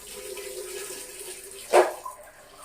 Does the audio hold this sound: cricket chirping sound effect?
no